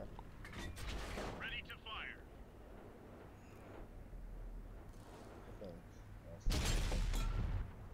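A heavy tank cannon blast in World of Tanks on PS4 lands loud and sudden near the end, after a stretch of calm commentary with faint distant battle rumble underneath.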